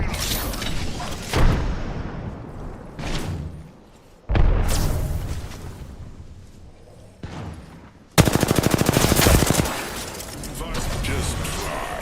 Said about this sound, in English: Frag! Throwing frag!